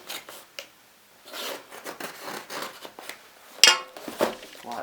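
A blade slices across the bottom of a cardboard shipping box holding racecar parts, giving faint scraping and rustling strokes, with a sharper crackle and a clink about two thirds through.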